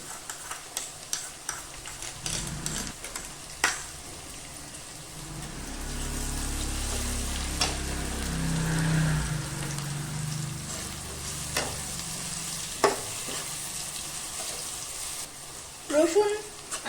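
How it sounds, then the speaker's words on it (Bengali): Crushed garlic cloves and green chillies sizzle in hot oil for a chicken curry, a steady close frying hiss that swells in the middle, broken by sharp clinks of a spoon stirring the pan. "রসুন আর কাঁচা লঙ্কাটা বেশ ভালো করে ভাজা হয়ে গেছে"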